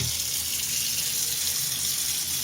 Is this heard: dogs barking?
no